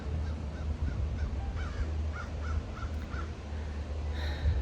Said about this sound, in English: We got some crows.